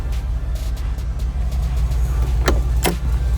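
A base-model pickup truck engine idling roughly, a loud steady low rumble close by, with a couple of sharp clunks near the end.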